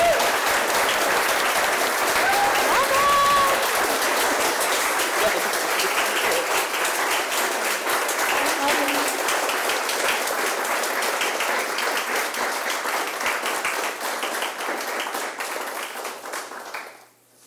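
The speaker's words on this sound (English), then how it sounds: "But a round of applause for them both." Sustained applause from a seated audience at a university awards ceremony, dense and loud clapping that holds steady for about fifteen seconds before fading and stopping abruptly at the end.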